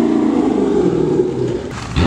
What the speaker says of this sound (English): That Charger. Daytona. Daytona sounds good.